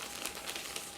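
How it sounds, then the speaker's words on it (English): A plastic bag holding two model kit sprues crinkles softly and steadily for a brief moment, close and faint, with no voices over it. "There is another plastic bag with 2 sprues inside."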